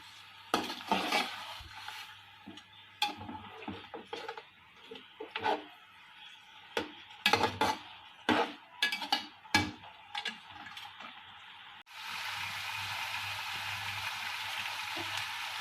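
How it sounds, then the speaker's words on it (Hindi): Crushed black pepper and spices are roasted in a pot for mutton pulao, with scattered scraping and stirring clicks, then a steady sizzle rising near the end. "काली कुटी मिर्ची, इन सब चीज़ों को भून लेंगे।"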